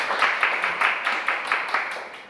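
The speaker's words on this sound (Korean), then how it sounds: "원래 꼭 박수까지 받으려고 했던 건 아닌데 쳐주니까 좋네요" A lecture audience claps in a slow, even rhythm, about ten distinct claps that gradually fade.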